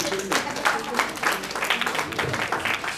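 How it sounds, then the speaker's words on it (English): A crowd applauds after a dance performance at an awards event, a dense, continuous wash of clapping with voices mixed in. "Big round of applause"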